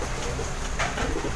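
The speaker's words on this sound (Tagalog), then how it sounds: "Sila talaga mga kalapatids yung ibon natin" Racing pigeons coo softly at a training toss, with a low murmuring rhythm set against steady outdoor background noise.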